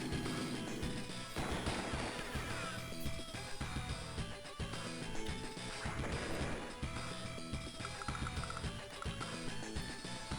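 A medium tank attacks and destroys a unit in the Advance Wars video game, with a crashing impact burst layered over continuous, loud game music throughout.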